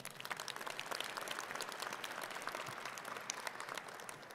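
Steady applause from an audience at a medical school commencement ceremony, a dense continuous patter of many hands, heard faint and distant with no talk over it.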